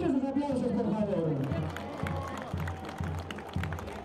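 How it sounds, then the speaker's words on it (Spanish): A crowd applauds a pageant candidate at the San Sebastián Nicananduta fiesta. Clapping with a few loud claps stands out over the murmur, and someone talks over the start before the applause carries on alone. "Fuerte, que se escuchen sus aplausos, por favor."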